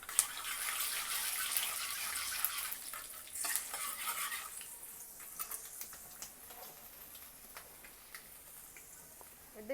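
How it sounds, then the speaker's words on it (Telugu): Mustard seeds, urad dal and chana dal frying in hot oil for a tempering give a faint, steady sizzle with scattered small pops and crackles, up close in a quiet kitchen. "కొద్దిగా ఆవాలు చిట్టపెట్టలాడి పప్పు కొంచెం రంగు మారింది."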